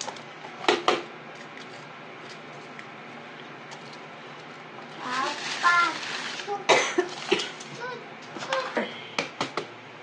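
Sharp coughs triggered by chili fumes while handling chilies in a kitchen break out near the start, then a cluster of harsh coughs and throat sounds follows later, with talking in the background.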